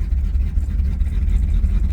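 A 1965 Ford Thunderbird with a 390 engine runs with an exhaust leak, a steady low rumbling idle heard up close with no talk.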